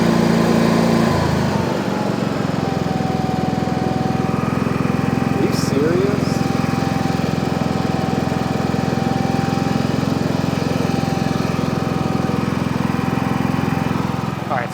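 Inverter generator, a GENMAX GM9000iED, Duromax XP9000iH or Predator 9500 Plus, running loudly up close with a steady, constant engine drone and hum throughout, unbroken and even in level.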